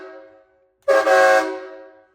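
A set of USA-made train horns mounted on a semi truck and run off its air supply blasts once, after a fading earlier tone, in a loud, harmonically rich, sustained honk that tapers off near the end.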